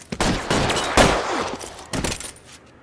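Gunshots in the video game L.A. Noire during a shootout, several loud sharp cracks spaced about half a second apart, close and echoing, with no talking.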